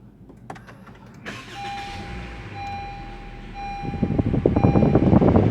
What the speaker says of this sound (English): hit this engine start stop button to go